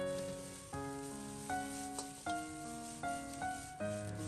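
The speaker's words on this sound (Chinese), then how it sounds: "随后放入准备好的包菜、豆芽，开大火快速翻炒" Cabbage and bean sprouts stir-fried over high heat in a wok with onion and scrambled egg for night-market fried noodles, a steady sizzle running beneath a tonal music bed.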